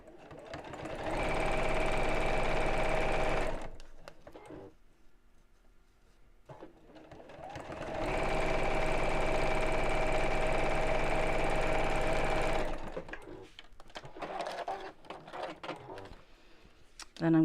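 A sewing machine runs in two sustained bursts as it stitches a bowling bag lining, loud and close, with a pause between and quieter handling noises around the runs.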